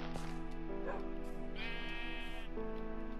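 Repeated sheep bleats from Minecraft, several wavering calls close by over a steady game music bed.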